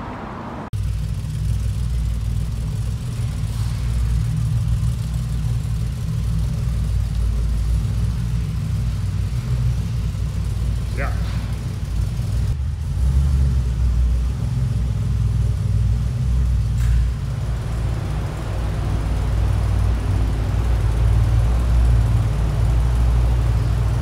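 A DeLorean engine rumbles steadily and loudly from close by, a deep continuous drone with slight swells, heard from inside the car.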